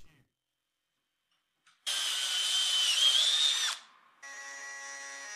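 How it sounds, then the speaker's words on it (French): A power drill bores a 32 mm hole in a driftwood lid with a loud, high whining bite for about two seconds, then stops and restarts briefly at a steadier pitch. "je perce un trou de 32 mm pour insérer le tube"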